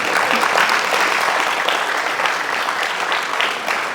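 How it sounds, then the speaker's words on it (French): Sustained applause from an audience at a public meeting about water as a common good, dense steady clapping that holds at an even level for the full stretch with no voices over it. "vous pouvez les applaudir aussi"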